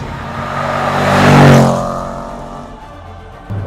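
A Range Rover Sport SVR's engine climbs hard toward the red line, a loud rising roar peaking then settling, close and alone with no talk.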